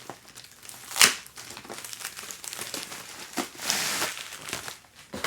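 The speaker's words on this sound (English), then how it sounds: "they've wrapped their slabs inside of UPS packing envelopes" A UPS plastic packing envelope holding graded comic book slabs is opened with crinkling and crumpling rustles, a sharp crackle near the start and a louder rustling swell later, close and moderately loud, no voices.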